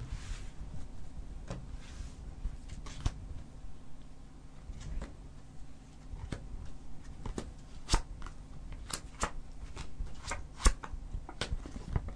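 A deck of fortune-telling cards is shuffled near the listener during a live clairvoyance broadcast, with repeated soft riffles and sharp card snaps spread irregularly throughout and no one speaking.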